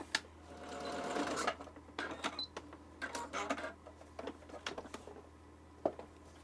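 A sewing machine runs in uneven bursts after its bobbin case was smoothed and the hook gear play and needle center position were adjusted, stitching close and clattering with short pauses and starts, no talk.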